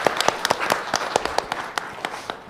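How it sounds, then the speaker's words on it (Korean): A small group claps for a short stretch at a press conference. The claps are sparse and uneven, with distinct individual hand claps in the room instead of a full roar. "제가 감히 여기 계신 분들에게 박수를 한번 좀 부탁드리고 싶습니다"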